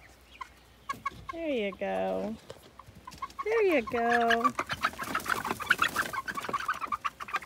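A flock of backyard chickens clucks and squawks as they come out of the coop on their first day outside, with a few loud drawn-out calls among scattered clucks and nearby rustling, while a person says a few words.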